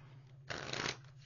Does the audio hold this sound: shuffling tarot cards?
yes